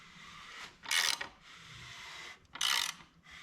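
Ratchet wrench cranking a Toyota 2JZ engine over by hand to check for binding, two loud, close bursts of rapid clicking separated by a quieter pause.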